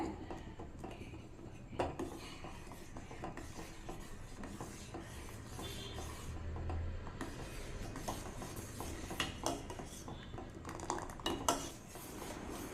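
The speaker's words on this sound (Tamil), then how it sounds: "கஸ்டர்ட் பவுடர் சேர்த்திட்டு இந்த மாதிரி நல்லா கலந்து விட்டுறலாங்க" A spoon scrapes and stirs around a pot as custard powder is mixed into milk for semiya kulfi, with soft, continuous metallic rubbing and occasional clinks, fairly faint and close.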